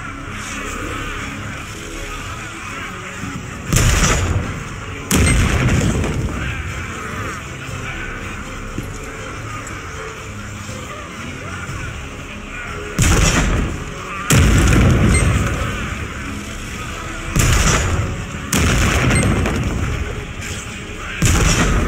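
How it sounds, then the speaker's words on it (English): Cannons blast at attacking demons from castle battlements in the video game Lost Ark: about six loud, heavy booms, several arriving in close pairs, punch through a steady rumbling battle background. "Use the cannons and defend the battlements."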